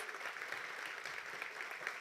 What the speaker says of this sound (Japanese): お二人に今一度盛大な拍手をお願いいたします